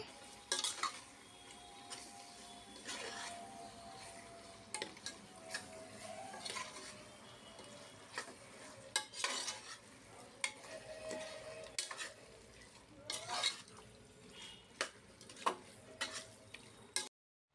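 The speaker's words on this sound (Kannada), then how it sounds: "ಎಣ್ಣೆ ಬಿಟ್ಕೊಳ್ಳೋ ಥರ ಚೆನ್ನಾಗಿ ಕಲಿಸ್ಕೊಳ್ಳಿ." Chicken coated in masala fries in oil and is stirred in a pan for hotel-style biryani, with a steady sizzle, repeated scraping and clinks of a spoon against the pan, close and clear, no talk.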